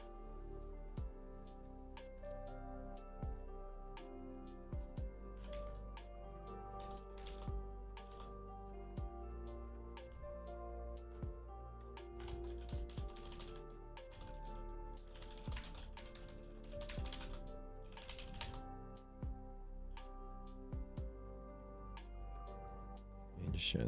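Keys on a computer keyboard clatter in quick, uneven bursts of taps with short pauses between, close and fairly quiet, with faint background talk.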